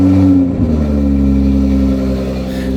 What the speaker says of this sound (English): let's get a cold start